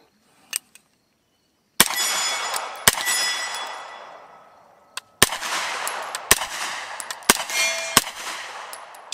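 Rifle shots fired at about 100 yards while testing a Primary Arms Cyclops prism scope: a faint click, then six sharp, loud cracks spaced a second or more apart, each trailing into a ringing decay.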